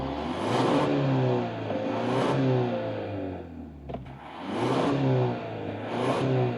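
A 2024 Genesis G70 with a 2.5-liter four-cylinder turbo engine revs loudly and close behind its real metal exhaust tips, two sustained rising surges split by a brief dip.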